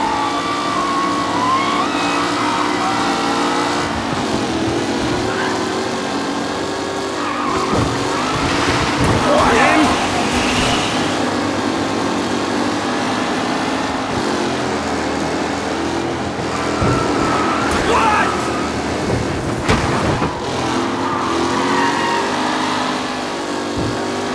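Race car engines in Mafia Definitive Edition roar loudly and continuously through a tense race, with tires squealing and skidding at moments and a commentator's voice running over the top.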